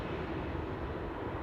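A small BeezJet business jet taxiing across an airport apron at Newcastle gives a steady, moderate engine hum and rumble that holds evenly throughout, with no voices over it.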